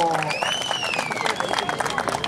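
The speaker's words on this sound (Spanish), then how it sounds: "¡Bríndele el aplauso!" A crowd claps for a bull-riding presentation at a rural jaripeo in Oaxaca, scattered applause under a whistle-like tone and lively background noise.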